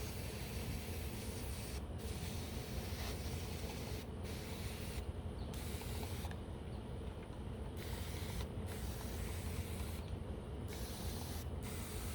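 Steady hissing spray from a spray bottle misting Hoya plants runs almost continuously, broken by a few brief pauses, close and fairly soft.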